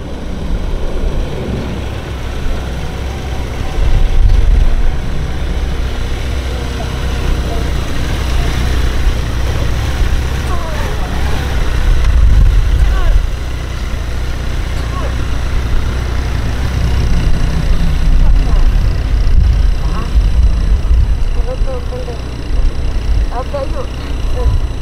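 A police motorcycle idles and rolls along at walking pace, its low steady engine rumble continuous and close throughout, with a person talking over it the whole time.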